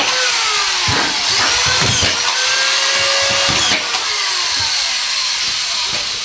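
A power tool whirs in bursts inside a basement while boards are fastened to the walls, with rising and falling motor whines over a constant loud background of construction noise.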